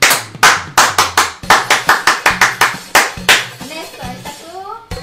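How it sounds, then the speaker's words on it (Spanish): Audience clapping at a live gathering, a handful of people applauding in quick uneven bursts that fade out after a few seconds. "¡Un aplauso para Néstor Duarte!"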